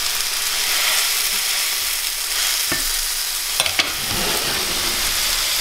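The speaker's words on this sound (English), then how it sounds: "So now I'm just going to cook it slowly and simmer it until it's done all the way through." Turkey and lamb sausage sizzling as it simmers in a pan on an electric stove, a dense, steady frying hiss with a few faint clinks of a utensil.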